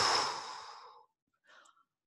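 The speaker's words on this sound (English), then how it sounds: "We're going to start by blowing out all the air in our lungs through our mouth and then keep our mouth open" One deep breath pushed out through an open mouth during a guided breathing exercise, a long airy exhale that fades over about a second, then a brief soft intake of breath.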